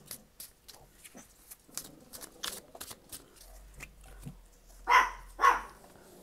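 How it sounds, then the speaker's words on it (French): A small chihuahua lets out two sharp, high-pitched yaps close by, following a stretch of light pattering and scuffling noises. "j'ai un chien en garde, un petit chihuahua qui aboie,"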